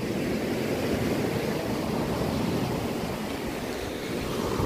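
Sea waves at Kasheli beach in Maharashtra wash in as a continuous, full rushing roar with some wind, steady and loud throughout, no voices.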